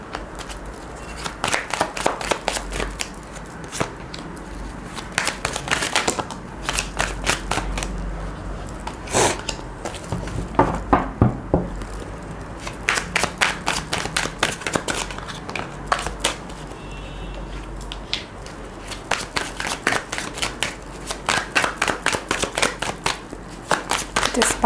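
A deck of tarot cards is shuffled over and over in bursts of rapid, crisp riffling flutters with short pauses between, close and fairly loud, and no one talks.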